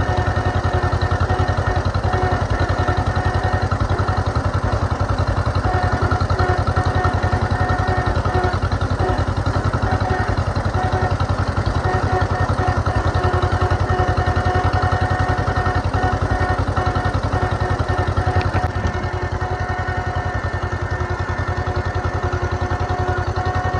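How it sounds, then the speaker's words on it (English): An old John Deere M tractor engine runs steadily while pulling a plow, a loud, close, continuous mechanical drone with a rough throbbing beat that barely changes before easing slightly near the end. "just enough to give the old tractor and the plow down a little workout"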